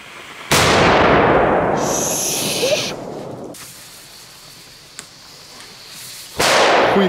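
Firecrackers set off outdoors during a fireworks session, two loud sharp bangs near the start and end with a long crackling decay after the first, and quieter scattered pops and rustling in between.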